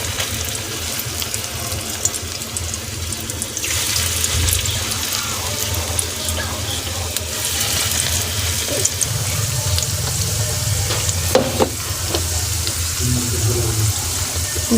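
Egg fritters made with country eggs sizzle in white oil on a flat pan; a dense, steady frying hiss fills the stretch at close range, with a brief clink or two of utensils.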